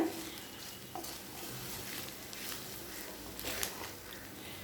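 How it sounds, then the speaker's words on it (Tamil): Mushroom fried rice with spring onion is stirred and tossed in a hot pan, with soft scraping and shuffling over a constant low sizzle, close and fairly quiet. "இப்போ இது எல்லாத்தையும் நல்லா மிக்ஸ் பண்ணிக்கலாம்."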